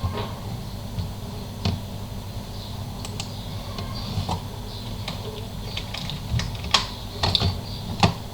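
Computer keyboard typing while filling in a web form in Bitrix24 CRM: irregular light key clicks, moderately faint and close, with no voices.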